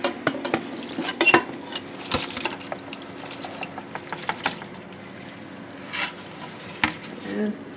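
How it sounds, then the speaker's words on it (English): A batch of pickle relish being drained, with wet sloshing, scraping and clinking of utensils against a metal pot or strainer in irregular bursts, heard up close. "Okay, I'm going to drain it."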